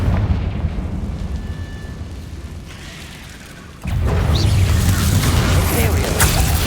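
A Confringo fire-blast spell explodes in the Hogwarts Legacy game, arriving as a sudden loud broadband boom that jumps up midway and stays as a dense rumbling roar, with a quieter hissing ambience before it.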